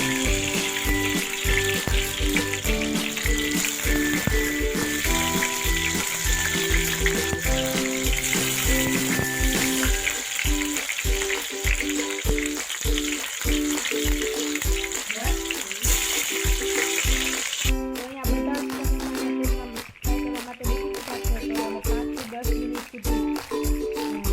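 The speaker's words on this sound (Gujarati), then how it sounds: "એમાં તેલ ગરમ કરવા મૂકી દીધું છે તો આપણે હવે ટમેટાને પણ અંદર નાખી દઈશું" Tomatoes fry and sizzle in hot oil in a pan, a loud, steady crackle throughout, with a rhythmic musical beat running underneath.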